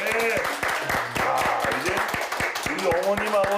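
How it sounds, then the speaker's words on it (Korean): Audience applause at a Korean village knee-health lecture event, a steady wash of clapping from a seated crowd of older residents with music and voices running underneath. "우리 선생님 큰 박수 부탁드리도록 하겠습니다"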